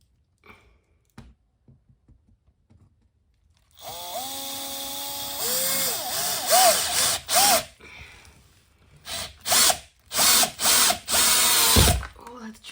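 A power drill drives screws into plywood, whirring in repeated loud bursts that rise and cut off after a quiet stretch of faint knocks and handling.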